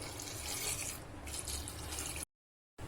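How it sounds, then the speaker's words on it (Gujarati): Water pours steadily into a pressure cooker holding salted peanuts, a soft continuous splashing for about two seconds before cutting to silence. "બે કપ પાણી નાખી દેશું"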